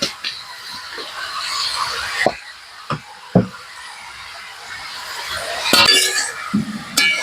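A metal lid clinks onto a pot of cooking potato and spinach, with a few sharp knocks and clatters standing out over a soft background hiss.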